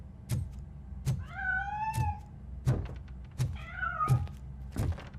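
A cat meows twice in clear, drawn-out calls, with a steady series of dull mechanical thumps knocking around them.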